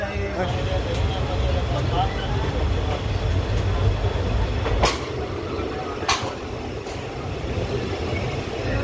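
A Gaya–Howrah express train rumbling steadily along the tracks with continuous low mechanical noise and a couple of sharp squeals or clanks, heard from on board.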